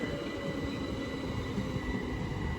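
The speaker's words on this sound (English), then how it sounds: "375711 to London Charing Cross via Dover, Ashford and Tunbridge." Class 375 electric train 375711 runs past at Deal station, a steady rumbling roar of wheels on rail with a faint high whine, loud and close throughout.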